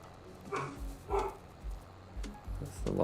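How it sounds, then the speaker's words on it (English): A Labrador barks in Farming Simulator 22 on the Alma, Missouri farm map, giving a few spaced single woofs at moderate distance over a low ambient hum. "That's the Labrador barking again."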